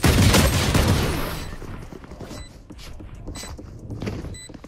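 Gunfire in Valorant opens with a loud, dense burst of rapid shots that fades over the first two seconds, leaving scattered fainter shots, mechanical clicks and footsteps, with no voices.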